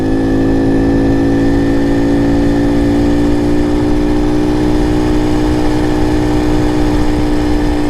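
Honda CT70 clone minibike engine held at wide open throttle on flat ground near top speed, a steady, loud, buzzing drone with a constant high pitch that stays unbroken throughout, close up and with no voices.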